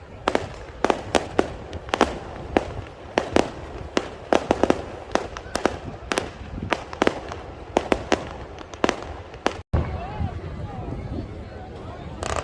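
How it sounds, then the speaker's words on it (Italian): Fireworks burst in honour of the Madonna di Custonaci at her festival, with loud, sharp cracks and bangs arriving in quick irregular volleys over a steady murmur of crowd noise. "E questi sono i fuochi in onore della Madonna di Custonaci, bellissimi."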